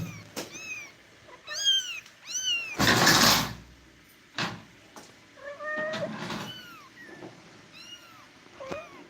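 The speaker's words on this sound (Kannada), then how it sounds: "ಹೌದೌದು ಕ್ಯೂಟ್ ಕ್ಯಾಟ್" A kitten meows repeatedly, clear and near, with short rising and falling calls spread across the clip, broken by a few loud knocks and rustles.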